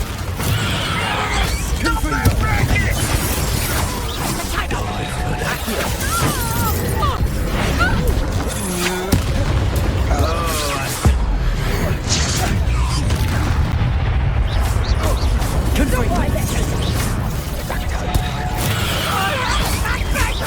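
Confringo explosive spell blasts in a Hogwarts Legacy battle, repeated heavy booms and crashes with shattering debris over a constant roar of combat, while voices talk throughout.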